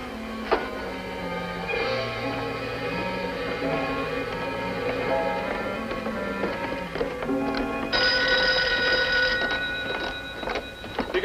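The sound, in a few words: telephone ringing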